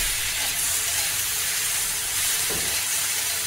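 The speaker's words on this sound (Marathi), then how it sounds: "आता परतून घेऊया." Chopped tomatoes sauté in a hot pan with salt, giving a loud, constant hissing sizzle that stays even throughout, with no voices over it.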